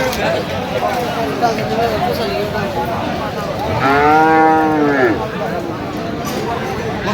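Sahiwal bull calf at a cattle market in Dinajpur lets out a single loud, drawn-out moo midway, standing out over steady crowd chatter and market noise.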